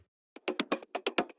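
After a short silence, a tech house drum loop starts in: a steady run of snappy, bright percussive hits with low thumps in an even, driving pulse, quiet overall and with no talking.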